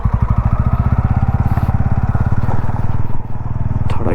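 A motorcycle engine idles and chugs with a steady, rapid, loud pulse on a rough path through dense forest, with a brief clatter near the end.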